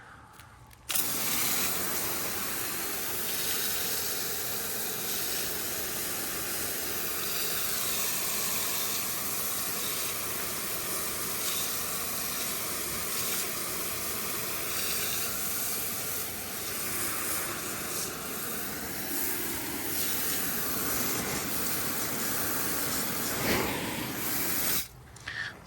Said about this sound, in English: So we'll give it a spray off here and see what it does.